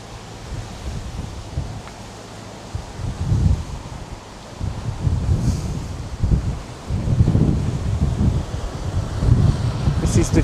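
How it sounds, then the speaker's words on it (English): Wind gusting outdoors on a blustery morning near Morro Jable, Fuerteventura, a rough low roar buffeting the microphone in uneven surges that swell and ease throughout. "It's quite a windy morning, really."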